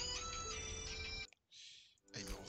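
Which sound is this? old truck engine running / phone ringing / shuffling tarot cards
phone ringing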